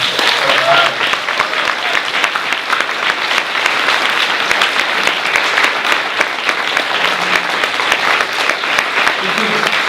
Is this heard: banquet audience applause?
yes